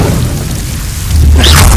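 An Incendio fire spell goes off in Hogwarts Legacy, a sudden loud whooshing burst with a deep low rumble that swells near the end of a brief moment of quieter ambience.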